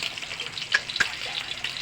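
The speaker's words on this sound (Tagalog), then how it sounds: "Piritong isda na tuna" Tuna fish sizzles as it fries in a pan, a steady crackle of hot oil with a couple of sharper pops, heard up close with no talking.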